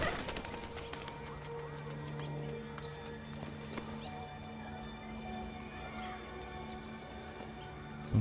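Pigeons coo softly in the ambient city soundscape of the video game Detroit: Become Human, faint low calls repeating over a quiet background hum.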